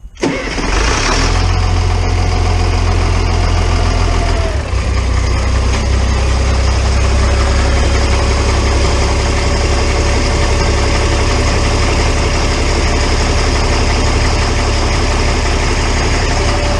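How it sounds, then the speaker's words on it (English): An LMTV military truck engine fires up after an oil and fuel filter service, cranking briefly before catching, then settling into a loud, steady, deep diesel idle heard up close. "Now the nerve-wracking part is firing the truck up and listening for clackety"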